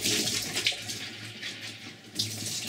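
Sprouting lentils rinsed under running water, a steady splashing gush that swells and eases over a few seconds, close and fairly loud with no talking.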